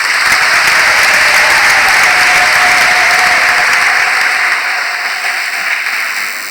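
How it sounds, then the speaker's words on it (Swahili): A large audience at a church children's gathering gives the parents a sustained round of loud applause, a dense even roar of clapping that slowly tapers toward the end. "Naomba tuwashukuru wazazi kwa kuwapigia makofi."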